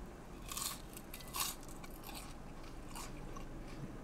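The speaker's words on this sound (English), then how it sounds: "They're so crisp and so crunchy." Crisp fries at a Benz on Miller burger spot being bitten and chewed, with a few close, sharp crunches near the start, then softer chewing under faint room noise.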